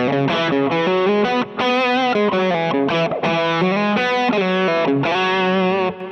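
Distorted electric guitar through a Kemper/Tone X/Quad Cortex/NAM-style amp profile plays sustained chords and notes with delay and reverb, loud and up front, with brief gaps between phrases and no voices.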